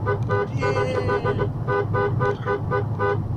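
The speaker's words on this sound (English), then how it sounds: "What are you honking for?" A vehicle horn honks repeatedly in short, evenly spaced toots while driving past a large flock of birds, loud and close, with brief speech mixed in.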